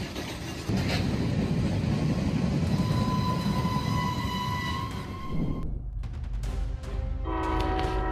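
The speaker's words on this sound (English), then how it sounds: "A semi-truck is crushed by an oncoming train, but the driver escapes just in time" A train at a road crossing in Canton, where it strikes a semi-truck, roars loudly and continuously. The heavy rumble cuts off abruptly partway through, followed by sustained horn-like tones and fading rail noise.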